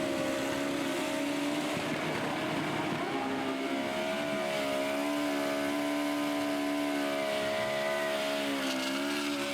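Super street bike burning out at a drag racing event, a loud sustained engine roar with shifting tones, heard alone without voices.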